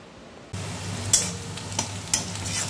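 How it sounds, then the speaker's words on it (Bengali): Onions sizzle steadily in a hot pan while being stirred for a pomfret curry, with a few sharp clinks of a utensil against the pan over the constant frying hiss. "এবার দেখো পেঁয়াজটা আমার হালকা ভাজা হয়ে এসছে"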